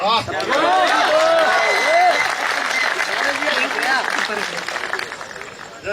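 An audience claps steadily and densely while an amplified voice speaks or sings over it at a public gathering, the applause staying loud throughout.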